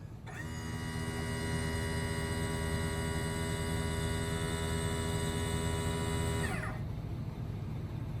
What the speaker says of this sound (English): Okay, we're going to test the pump now.